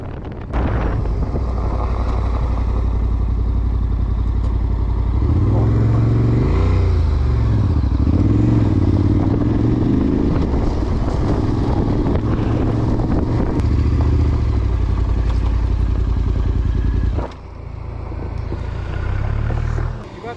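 A Yamaha Ténéré 700 GYTR motorcycle riding on the road during the Transanatolia rally, its engine a steady low drone buried in heavy wind buffeting across the microphone, easing briefly near the end before picking up again.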